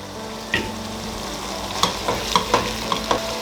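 Tomato sauce is stirred into a frying pan with a soft, continuous sizzle under a handful of sharp scrapes and clinks of a utensil, close and fairly loud.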